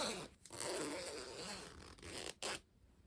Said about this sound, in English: The true test is if we zip it and it works.